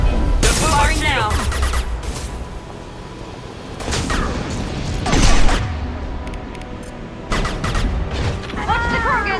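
Weapon fire in the Mass Effect 2 video game: loud bursts near the start, around four seconds and past five seconds, mixed with mechanical clanks, booms and voices.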